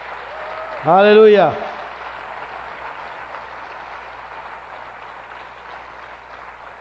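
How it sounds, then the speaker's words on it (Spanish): A church congregation applauds for the Lord with a sustained, moderate wash of clapping, while someone shouts one loud, drawn-out exclamation over it early on. "denle un aplauso al Señor, fuerte que Él se lo merece"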